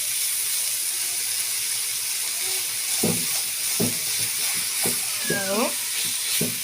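Minced meat frying with cumin in a pan, a steady hiss and sizzle with a few scraping stirs and clinks, close by and moderately loud.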